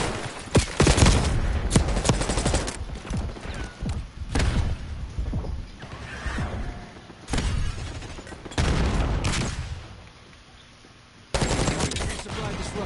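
Gunfire in the multiplayer shooter Black Ops 6, dense bursts of rapid automatic fire and booming shots that come close and loud, with brief lulls and a short quiet gap before the shooting resumes.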